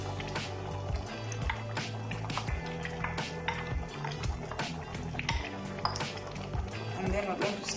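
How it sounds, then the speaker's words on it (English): Tomatoes being added to a pot of cooking beans give off wet plops, squelches and liquid sloshing close by, broken by scattered knocks against the pot. "I'm now going to add in my tomatoes."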